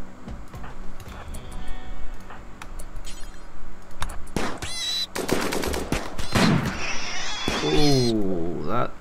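Gunshots in the colony-management video game Rimworld, sharp scattered cracks mixed with game sound effects and music, with someone talking over parts of it.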